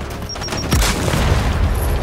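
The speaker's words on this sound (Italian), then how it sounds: "Granate in uscita!" Grenade explosions and gunfire in the Gears of War 5 campaign on Xbox One X: a heavy boom lands midway, followed by a dense rumbling barrage of shots, with voices mixed in.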